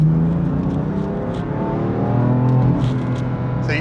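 BMW M4 pulling away on a main road in efficient mode, a smooth rising engine drone heard from inside the car, steady and moderately loud with no speech.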